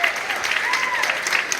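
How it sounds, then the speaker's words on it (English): Sustained applause from an audience honouring a presenter, dense steady clapping filling the whole stretch at moderate loudness with no break. "round of applause"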